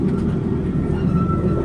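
A steady, loud rolling rumble from a roller coaster train running along its track at Parc Le Pal in France fills the clip without a break.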